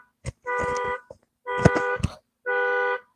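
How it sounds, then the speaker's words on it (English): Three loud, sustained car alarm tones in a repeating pattern, each about half a second long, with short clicks between them; the steady harmonic beeping is close and prominent. "I do apologize about this beeping sound in the background"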